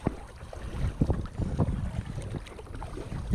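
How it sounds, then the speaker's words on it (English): Wind gusts buffet a kayak paddling at sea off the Capricorn Coast in winter, a steady rushing roar with low rumbling microphone buffeting and faint water sloshing, no voices. "Wind's picked up a little bit coming from the coast"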